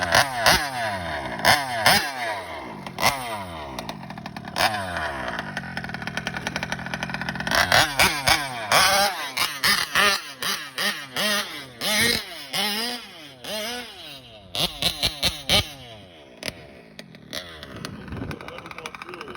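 A 1971 Vespa Supreme scooter engine revs repeatedly in close, loud bursts that rise and fall, with brief pauses and a speaking voice heard between some of the revs.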